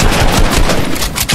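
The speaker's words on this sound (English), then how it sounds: "We're shooting shotgun shells far now." Rapid, loud, dense bursts of shotgun fire from the video game Fortnite, a continuous close volley with no pauses and no speech.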